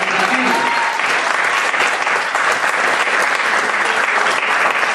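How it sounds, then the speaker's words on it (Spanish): Church congregation applauding during a service, dense steady clapping from many hands that carries evenly for several seconds, with a brief voice early on. "Un aplauso"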